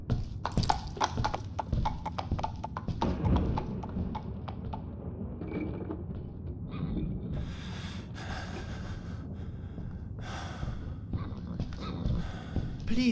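Horse hooves clip-clop in an Edgar Allan Poe gamebook scene, with repeated clattering steps alongside snorts and heavy breathing, moderately close and mixed with some speech.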